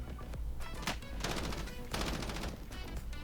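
Several bursts of gunfire crackle in a Warzone match, dense clustered shots arriving in rapid volleys separated by brief lulls, all at a moderate distance.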